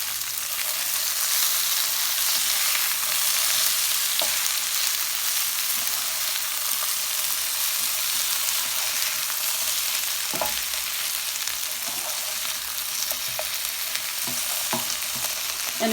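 Potatoes and onions sauté in a pan with a continuous, even sizzle that holds steady throughout, with faint scattered taps of a utensil, close by and without speech.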